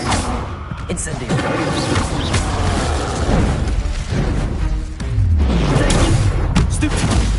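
Booming fire spell blasts and explosive impacts in Hogwarts Legacy combat, several loud bursts over a few seconds with a voice shouting in between.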